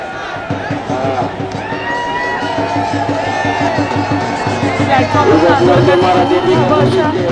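A large, dense crowd of protesters at a railway track protest, a continuous loud babble of many voices with shouts rising and falling throughout, close and filling the scene.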